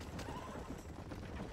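Horses in the Red Dead Redemption video game neigh and whinny with clip-clop hooves, faint and distant in a quiet mix.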